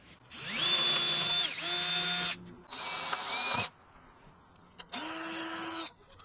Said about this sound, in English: mark and drill a hole here, and drill a hole there